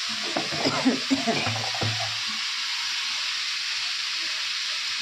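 Taro greens fry in a pan with a steady, close sizzling hiss and occasional stirring scrapes, while voices talk over the first couple of seconds before the frying carries on alone.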